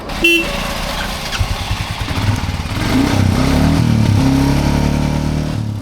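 A motorcycle that had an ignition fault runs close by, with a short horn toot at the start before the engine idles unevenly and then revs up, loud and steady.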